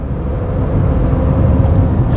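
Manual-transmission gasoline car climbing a hill, its engine droning steadily loud and close while revving through the gears, with a low rumbling hum throughout.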